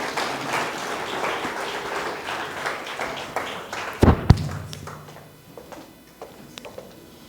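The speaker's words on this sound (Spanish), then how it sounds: "Bríndele un fuerte aplauso al Señor." A church congregation claps loudly in praise, dense applause with a couple of sharp thumps midway before the clapping thins and fades out toward the end.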